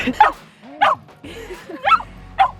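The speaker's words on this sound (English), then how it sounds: "that is the most I've ever seen her bark outside of our house" A dog barks outdoors, four or five sharp, yipping barks spaced unevenly and close by, with a whiny, whimpering edge between them.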